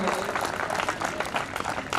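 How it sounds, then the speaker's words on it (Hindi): Audience applause welcoming a guest on stage at a youth career conference in Nawada, a continuous, fairly loud patter of many hands clapping together, with some voices faintly mixed in. "जोरदार तालियों से इनका स्वागत करिए।"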